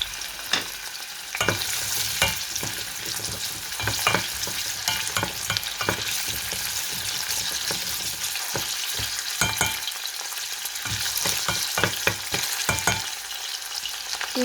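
Onion and garlic sautéing in a hot pan, a continuous close sizzle broken by frequent sharp clicks and scrapes of a spatula stirring against the metal.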